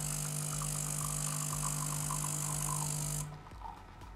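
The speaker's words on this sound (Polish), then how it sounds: "No i kawa się parzy, jak widzicie." A DeLonghi espresso machine brews a short espresso, its steady pump hum and buzzing drone running loud and close with faint rhythmic ticking, then cutting off near the end to leave a quieter low rumble.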